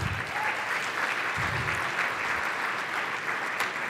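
Steady audience applause fills a luncheon hall during a business event featuring a U.S. Senator, a dense even wash of clapping that holds at the same level throughout.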